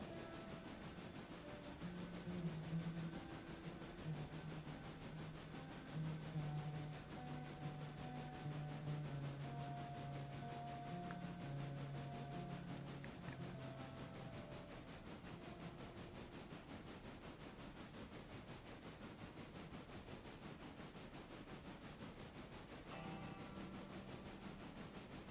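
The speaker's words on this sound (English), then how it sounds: "Could start the passenger train on its way." Passenger train rolling along in the game Railroader, a steady low rumble of cars on track that stays even throughout, with a brief sharper clatter near the end and no talking.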